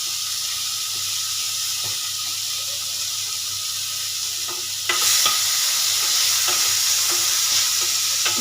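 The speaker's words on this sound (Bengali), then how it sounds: "যতক্ষণ না হালকা ফ্রাই হয়ে আসছে ততক্ষণ কড়াইতে নাড়িয়ে নেব" Chopped onion and tomato sizzle in a little oil in a wok while being stirred, a steady close frying hiss with scraping stir strokes that grow louder partway through.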